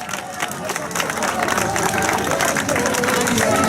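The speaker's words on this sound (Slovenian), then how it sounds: "Dajmo en aplavz" Crowd at a recreational riverside fun run in Domžale clapping for participants, a steady rising patter of many hands outdoors with murmuring voices mixed in.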